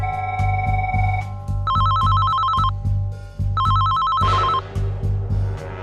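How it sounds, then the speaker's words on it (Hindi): A telephone rings in repeated electronic trilling bursts over a steady rhythmic musical backing in an animated story scene, loud and close, with no speech. "गुल्ली दौड़कर टेलीफोन के पास जाता है और बाबा को कॉल लगाता है"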